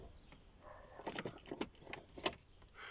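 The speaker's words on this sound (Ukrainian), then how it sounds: "поверніть ключ в ісходне положення, витягніть його зі скважини" Quiet metallic jingling and a few soft clicks as a car key is pulled out of the ignition, close by, with no talking.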